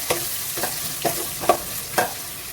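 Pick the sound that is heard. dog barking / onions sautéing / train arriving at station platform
onions sautéing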